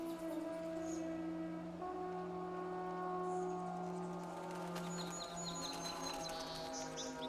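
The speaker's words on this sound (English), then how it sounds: "Silly birds." Faint bird chirps flutter over a steady droning hum in Red Dead Redemption 2, the short twittering calls clustering toward the end, with no talking.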